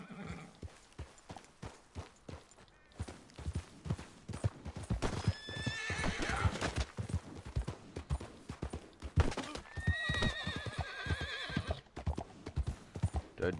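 Rapid hoofbeats of a galloping horse in Red Dead Redemption 2 clop along steadily while horses neigh and whinny loudly at several points, over a busy background of other game sounds.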